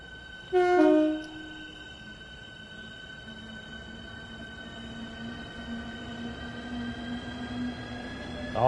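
A train in Train Sim World 3 sounds a brief two-tone horn blast, then a steady engine hum and rail drone continues on its own to the end.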